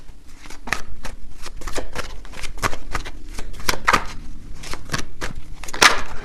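Tarot cards shuffled and handled in quick, crisp riffles and snaps, loud and close, repeating steadily with no talking.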